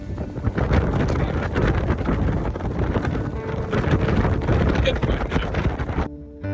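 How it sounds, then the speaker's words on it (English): Strong wind buffets the microphone aboard a boat cruising through the Milford Sound fjord, a loud continuous roar with gusty surges that drowns out everything else and cuts off abruptly near the end. "It's so windy you can't hear me."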